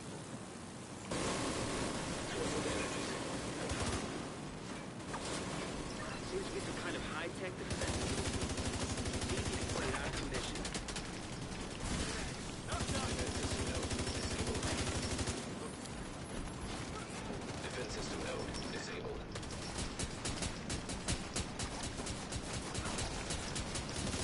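Turret gunfire in a video game raid rattles in dense, continuous bursts with loud crackling noise that pauses briefly and resumes, the whole barrage sitting at a steady level.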